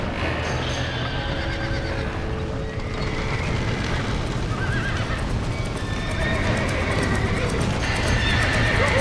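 Horses in the Red Dead Redemption video game neigh and whinny repeatedly over clip-clop hooves and a dense, busy background of commotion, with voices faintly mixed in.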